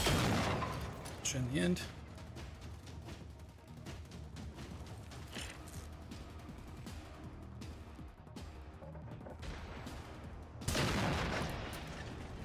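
Rifle gunfire in the video game Generation Zero, with a few sharp shots early and a louder burst near the end, mixed with game sounds and someone talking throughout.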